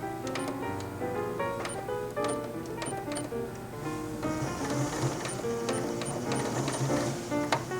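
A Janome sewing machine with a binder foot stitches binding onto fabric, a steady, close mechanical clatter of rapid needle strokes running continuously with no talking.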